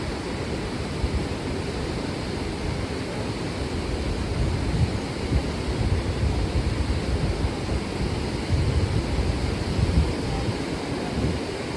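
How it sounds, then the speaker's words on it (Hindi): Steady, broad rushing water roars continuously where two waterfalls meet nearby, on a mountain trek to Kalpeshwar Mahadev, with no voices and no change in intensity. "दो झरने मिल रहे हैं, वहाँ से भी आ रहा है।"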